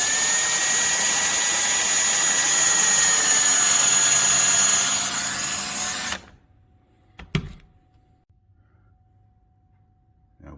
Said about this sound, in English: You can then drill the second hole